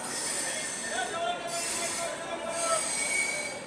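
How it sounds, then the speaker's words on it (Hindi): Howrah Ranchi Intercity Express pulling into platform 2 of an Indian railway station, its wheels squealing in drawn-out high tones over a steady rumble and station bustle. "प्लेटफॉर्म नंबर 2 पर आ गई है हावड़ा रांची इंटरसिटी एक्सप्रेस"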